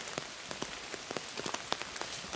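Steady rain falls through woodland, a dense patter of drops with sharper individual splats scattered across the short stretch, close and fairly loud with no voices.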